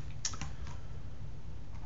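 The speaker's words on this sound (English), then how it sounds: "That would be the error I just typed in my calculator." A few quick, light button taps on a calculator, close and soft, clustered in the first half second and fading to quiet room hum.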